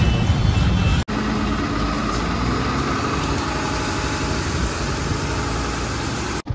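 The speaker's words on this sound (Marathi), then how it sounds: "पुण्यावरती ट्रॅफिक आहे." Steady, loud traffic rumble in Pune, with engines idling and heavy vehicles droning close by, continuous apart from a brief dropout near the start.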